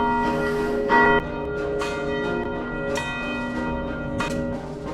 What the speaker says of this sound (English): I thought I'd ring the bell and let our neighbors know that Christ is risen